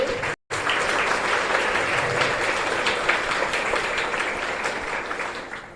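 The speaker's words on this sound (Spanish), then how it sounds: "al equipo de coro, un fuerte aplauso por favor" Applause for the choir fills a chapel church service, a dense sustained clapping from a large congregation that runs steadily throughout after a brief instant of silence near the start.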